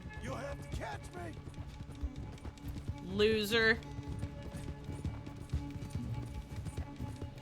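Horse hooves galloping in Red Dead Redemption 2 during a race, a steady clip-clop rhythm running underneath while voices talk over it.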